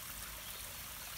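Water flowing in a small stream beside a little road bridge in an arboretum garden, a steady, faint, continuous trickle with no one speaking.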